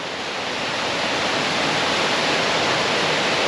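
Balea waterfall in the mountains of Transfagarasan, Romania, fed by glacial water: a dense, constant roar of falling water, loud and close, with no break or voices.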